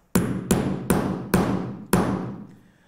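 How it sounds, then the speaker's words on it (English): Five sharp hammer taps on a snap fastener set upright for sewing, evenly spaced and close, each ringing briefly before the next, with no talk. "This is where I'm going to hammer."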